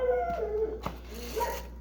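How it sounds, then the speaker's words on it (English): An indoor pet dog howling and whimpering in a kitchen, a string of close, wavering high-pitched whines and howls with brief knocking noises between them. "My dog's having a fit."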